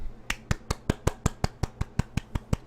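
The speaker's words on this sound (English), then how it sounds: "Golf clap." Slow, evenly spaced single hand claps ring out one at a time in a deliberate golf clap, about a dozen crisp, close strikes in steady rhythm with no talk over them.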